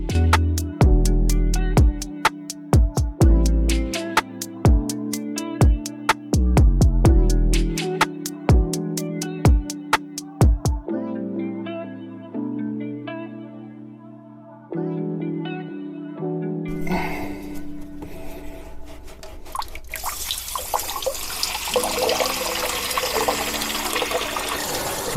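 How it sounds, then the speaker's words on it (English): A basement sump pump switches on and pumps water out, a steady rushing, gurgling wash that fills the last several seconds after an opening stretch of music. "we'll go ahead and plug the main pump back in, get that pump running a couple times"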